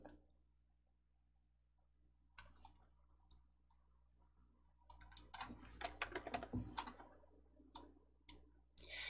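Typing and mouse clicking on a computer keyboard while setting a font, at first sparse and faint, then bursts of quick close key taps and clicks in the second half.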